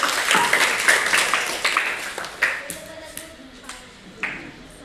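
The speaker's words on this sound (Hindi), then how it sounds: "ताली बनाते रहिए।" Scattered claps from people watching children's high jump, with uneven bursts and sharp single slaps that thin out over time, heard alongside nearby talk.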